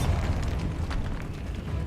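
Explosive blasts from the Bombarda spell in Hogwarts Legacy on PS5, a dense run of loud low booms and rumbling bursts that continue without a break.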